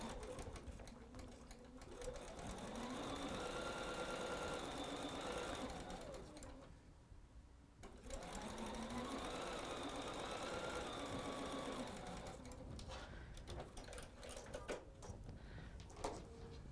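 A sewing machine stitches quilt gift blocks in two long, steady whirring runs that ramp up and wind down, separated by a brief pause, with light handling noises at the start and end.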